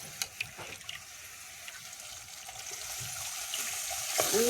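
A yogurt and gram flour kadhi mixture pours into a hot pan over tempering, a soft running liquid sound that builds gently with a few light clinks near the start, heard close with no talking.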